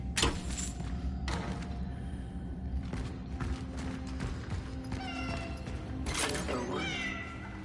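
A cat meows several times in a game scene, with short rising calls near the end over constant background music and ambience. A couple of soft thumps come in along the way.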